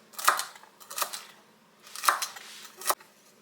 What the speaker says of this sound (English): I'm just going to cut it in small pieces